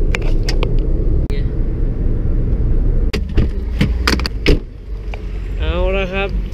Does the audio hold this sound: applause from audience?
no